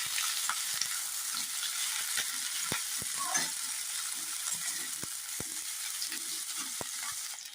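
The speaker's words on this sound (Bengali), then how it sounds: "এবার সবজিগুলো একটু ভেজে নেবো তেলের ওপর" Vegetables fry in hot oil with asafoetida, making a steady close sizzle broken by repeated knocks and scrapes of a spatula stirring the pan.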